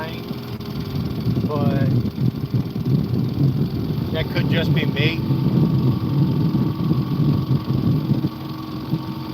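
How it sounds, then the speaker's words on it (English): A small fishing boat's engine idles with a steady low rumble that sags and falters as it keeps dying, while someone talks over it at close range. "Yes, the engine keeps dying"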